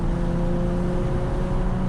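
A Nissan 350Z HR fitted with a catback exhaust runs steadily, giving a brief, even engine drone with a low exhaust hum and no talk.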